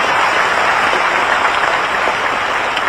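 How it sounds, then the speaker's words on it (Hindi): Loud, dense applause from a large audience at a business app launch event in Bhopal, a continuous roar of clapping with no pauses. "जोरदार तालियां बजा लें"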